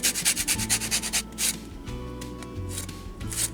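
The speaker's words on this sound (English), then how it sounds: "We're just gonna put some orange zest all over the top." An orange being zested over a pig pickin' cake, a traditional Southern dessert, a close, quick run of rhythmic scraping rasps, then slower intermittent strokes, heard alone.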